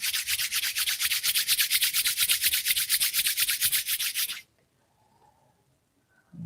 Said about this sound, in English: take a moment to awaken the fingers and toes and rub the palms together